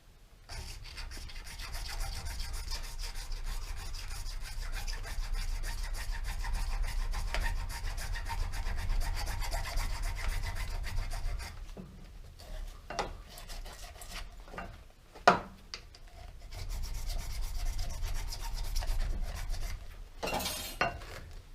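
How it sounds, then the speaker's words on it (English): A hacksaw draws back and forth through PVC pipe in steady rasping strokes, fairly quiet and close, with a brief pause and a couple of knocks partway through before the sawing continues. "you can feel a difference in the draw of the hacksaw blade as it's cutting through the pipe"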